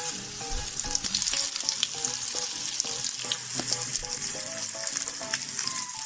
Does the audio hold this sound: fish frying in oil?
yes